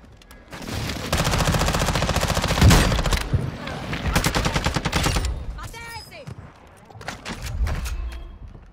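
Submachine gun fire in Warzone 2.0: loud rapid bursts of automatic shots in several strings, with short gaps between bursts and other in-game action sounds.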